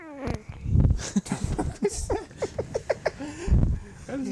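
A person's voice imitates a cat, with a few short meow-like calls and caterwauling sounds at close range, mixed with some human vocal noise.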